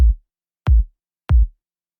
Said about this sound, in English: we're taking the sample kick number 3 here and just loading it